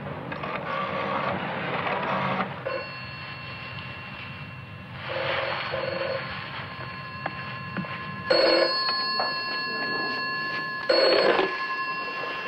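A telephone bell rings in repeated bursts, loud and close, with quiet gaps between the rings in an indoor room.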